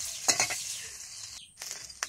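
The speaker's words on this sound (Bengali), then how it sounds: "খুন্তি দিয়ে সুন্দরভাবে নেড়ে চেড়ে আমি মাছগুলো ভেজে" Shing fish fry in hot oil with a soft sizzle, while a metal spatula turns them and scrapes the pan in a few quick, close strokes.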